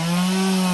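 Chainsaw from the Zebra-Man video game trailer: a steady, loud droning motor buzz with a constant pitch, running without a break through the short clip.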